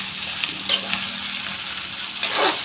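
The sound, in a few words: sautéing vegetables in a pan with string beans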